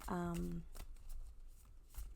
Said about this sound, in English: I just overhand shuffle, and as you can see, hopefully they don't get stuck together.